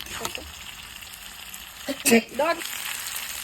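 Pre-fried potatoes go into a pan of spiced chicken curry being cooked down to a thick kosha. A steady soft sizzle runs throughout, with short louder splashes and hisses about midway as the potatoes land and are stirred in.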